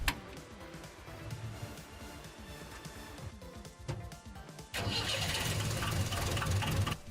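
A car engine is jump-started from a BlitzWolf BW-JS1 portable jump starter pack: a laboured cranking rumble, a brief dip, then the engine catches and settles into a loud, steady idle.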